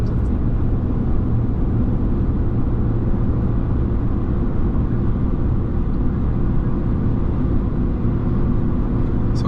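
Steady, loud cabin drone inside a RAM 3500 pickup with the inline six Cummins diesel, cruising with constant low engine and road rumble and wind hiss throughout, no voices.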